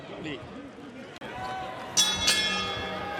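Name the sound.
boxing ring bell signalling the start of round one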